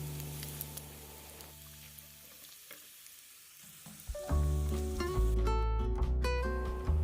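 Small pempek fish cakes fry in oil with a soft, steady sizzle near the microphone, and a louder clattering burst joins near the end.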